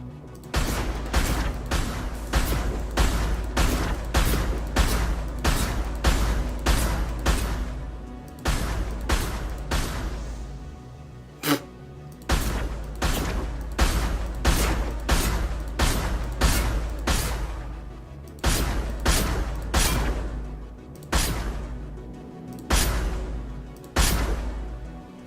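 Disruptor ammo gunfire in Mass Effect 2 pounds out as a steady series of sharp, evenly spaced shots, loud and close, grouped in long volleys separated by short pauses.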